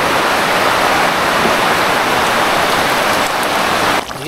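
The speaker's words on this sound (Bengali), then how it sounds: "ভরপুর বৃষ্টি হচ্ছে।" Heavy rain pours steadily on a village kitchen during cooking, a dense, loud, unbroken hiss that dips slightly near the end.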